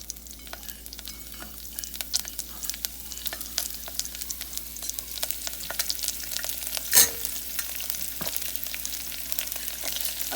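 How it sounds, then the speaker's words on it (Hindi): Fenugreek sprouts with salt frying in a pot, a steady soft sizzle under scattered scraping clicks from stirring, with one sharper knock of a utensil midway. "आप वो स्प्राउट्स इसमें डाल दीजिए"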